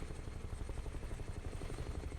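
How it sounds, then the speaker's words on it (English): Huey UH-1H military helicopter in Microsoft Flight Simulator, a steady low rotor thump and engine drone running continuously and loud throughout, with no talking. "the best helicopter you could ever have in Microsoft Flight Simulator"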